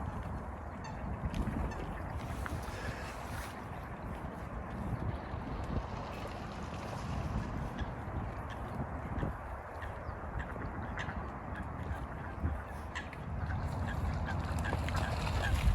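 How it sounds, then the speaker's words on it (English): A goose or similar waterfowl snagged on a carp fishing line at a winter syndicate lake honks and squawks intermittently over steady wind and outdoor noise, with no talking. "we've got one on. First on the syndicate, and it's a bird."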